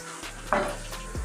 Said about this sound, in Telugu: దీంట్లో కాకరకాయ ముక్కలు వేసుకొని కలుపుకుందాము.